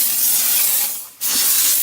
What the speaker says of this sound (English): And now we're steaming the washrooms.